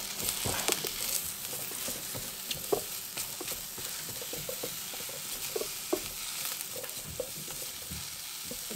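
Sausages sizzle steadily in an electric frying pan, with frequent soft clicks and pops and a few occasional stirring or turning taps, close and continuous, with no voices.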